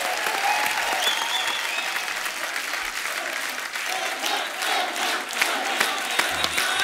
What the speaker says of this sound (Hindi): जोरदार तालियां एक बार सलमान भाई के लिए।